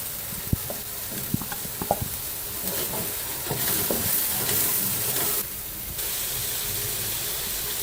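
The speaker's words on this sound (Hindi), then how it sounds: "ये अब हम तमाम मसाले अदरक लहसुन इसके अंदर शामिल कर देंगे।" Spices, ginger and garlic sizzle in hot oil for kachnar gosht, with spoon taps and stirring knocks early, then a louder burst of frying hiss that settles into a steady sizzle.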